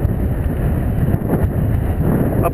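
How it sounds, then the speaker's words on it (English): Strong wind rushing over the microphone on a bicycle descent down Crimp Hill in Great Park, a loud continuous roar and buffet with no talk. "Ooh, it's windy going this direction."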